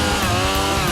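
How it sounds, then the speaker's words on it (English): A chainsaw runs at full, steady throttle while cutting a tree to clear a lot for demolition, a loud, close, continuous buzzing drone. "One of the biggest guys gets his chainsaw out."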